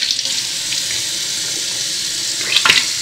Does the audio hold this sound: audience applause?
no